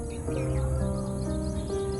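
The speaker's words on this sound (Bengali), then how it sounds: "বিভিন্ন ধরনের পাখির ডাক শোনা যাচ্ছে ছাদ থেকে" Birds calling from a rooftop on a rainy day, thin chirps and tweets heard faintly over a steady hum, with no voices.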